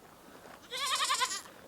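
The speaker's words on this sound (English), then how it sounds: "If you guys miss hearing a goat yell all the time" A farm goat lets out one loud, wavering bleat lasting under a second, close to the microphone with no other sounds around it.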